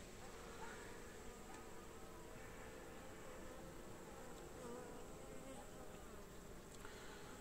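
Carniolan honeybees hum softly and continuously around an open hive frame, a faint, even buzz with small flickers of individual wingbeats and no talk over it.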